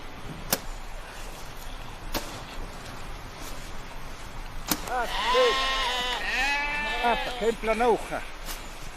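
Sheep bleat in overlapping wavering calls during a snowstorm, close by, with a few sharp knocks before them and a dull background rumble.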